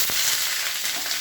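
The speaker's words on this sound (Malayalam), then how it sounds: "കുറച്ച് കടുക്, ശേഷം മുളക്, ഉള്ളി, ചെറിയ ഉള്ളി സവാളയും കൂടെ അരിഞ്ഞ് വെച്ച് അത് ഇടാം." Mustard seeds, chillies and onions fry in hot oil, giving a steady, close sizzle with faint crackles throughout. No voices are heard.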